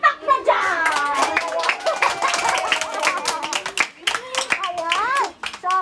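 Family members clap at a birthday surprise around an SUV trunk, sharp close handclaps mixed with children's and adults' voices talking and exclaiming throughout.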